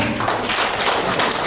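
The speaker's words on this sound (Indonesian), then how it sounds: "Beri tepuk tangan dulu Bapak Ibu." Audience applause at a school principal performance observation event at a special-needs state school in Cilacap, a steady dense wash of many hands clapping throughout, fairly loud and continuous with no clear talk.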